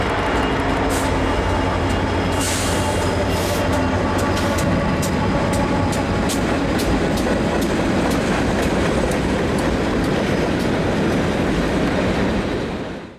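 A long freight train of over 150 cars rolls steadily past close by, a continuous loud rumble with rhythmic clicking of wheels over rail joints throughout.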